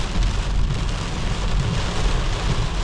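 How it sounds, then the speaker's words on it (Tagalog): Heavy rain pours steadily during an outdoor festival in Toronto, a dense, unbroken hiss and patter with low rumbling underneath and no pauses. "Ulan, lakas ng ulan."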